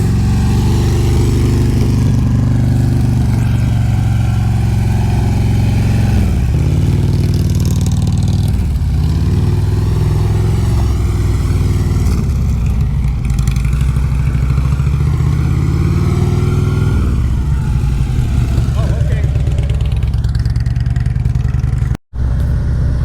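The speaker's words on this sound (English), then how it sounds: "Throttle's a little high, but that's better than not enough." A motorcycle engine runs loud and close for a long stretch, its revs repeatedly rising and falling from a fairly high idle, then cutting out for an instant near the end.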